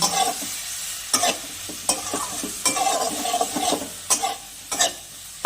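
Turmeric and chilli spice paste sautéing in a pan for a fish curry, a low sizzle broken by repeated sharp scrapes and knocks of a spoon stirring against the metal, close and fairly loud, no voices.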